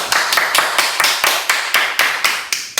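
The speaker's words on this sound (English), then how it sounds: "Ladies and gentlemen, a round of applause." Rhythmic clapping at a UFC event, steady evenly spaced claps repeating about every quarter second, loud and close with no other sound.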